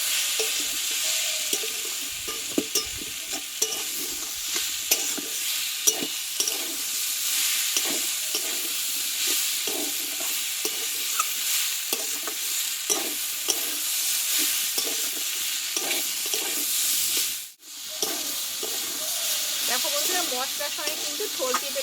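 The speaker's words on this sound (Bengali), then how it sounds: "এবার কষে রাখা থোর আর পেঁপেটাকে দিয়ে দেবো মশলার সঙ্গে একসঙ্গে কিছু নাড়ু আমি কষিয়ে নেবো" Banana stem and papaya being sautéed with spices in a pan, a steady close sizzle and frying hiss with stirring scrapes running throughout and a short break near the end.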